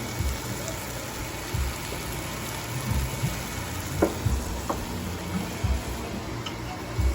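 Onions and shoulder beef sizzle steadily in a pot, a constant close frying hiss with occasional soft clicks and stirring knocks, no talking.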